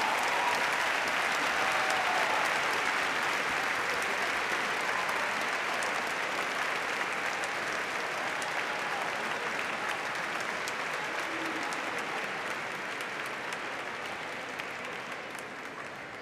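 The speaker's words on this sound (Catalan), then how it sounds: "Un fort aplaudiment." A large crowd at a graduation ceremony applauds steadily and densely for a long stretch, the clapping holding strong before gradually thinning toward the end.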